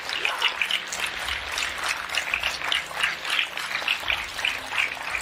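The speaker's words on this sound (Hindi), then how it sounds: "तो हो जाए एक जोरदार तालियां आपके सेहत के नाम पे" An audience claps together in a dense, even patter of many hands that holds steady for several seconds at moderate distance.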